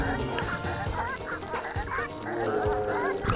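Honking, squawking poultry calls from the Sly Raccoon video game on PS3, a dense, busy chorus of overlapping birds sounding close and fairly loud throughout, with no talk.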